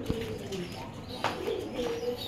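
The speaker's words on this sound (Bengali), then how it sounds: "এগুলো হলো লাহোরি, পাকিস্তানি সিরাজি আর কি" Lahori and Pakistani Shirazi pigeons coo softly in a home loft, a few low rolling calls spread over a couple of seconds with faint background chatter.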